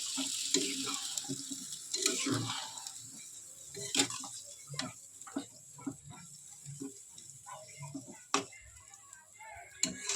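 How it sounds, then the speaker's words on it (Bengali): Beef chaap stirred in a pan, with irregular scraping and clattering strokes over a steady soft sizzle, close and fairly quiet, with no talking. "এটাকে ভালো করে নেড়ে চেড়ে নিলাম।"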